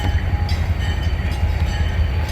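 An SD45 diesel locomotive moves through a station at a railway museum's diesel event, its engine a steady loud low rumble with a dull mechanical drone and no talk.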